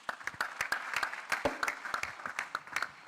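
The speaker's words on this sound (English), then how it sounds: "A round of applause" Audience applause at a tax summit honouring a taxation professor, a steady roomful of clapping with sharp individual claps standing out, moderately loud and continuous throughout.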